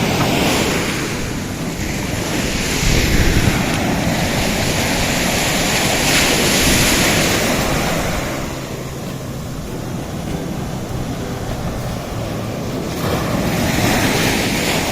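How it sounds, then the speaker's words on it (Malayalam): Big sea waves break on Padinjarekkara beach in Ponnani. The surf roars continuously, with wind buffeting the microphone and swelling in a few louder surges. No one speaks. "വലിയ തെര."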